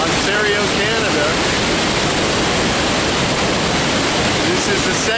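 Kakabeka Falls in Ontario, Canada, one of the country's largest waterfalls by volume, gives off a loud, steady, broadband roar of rushing water that fills the whole scene without a break.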